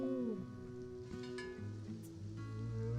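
Steady rain falling outdoors in the Sims 4 game, a soft continuous wash with faint game music tones layered over it and no talking.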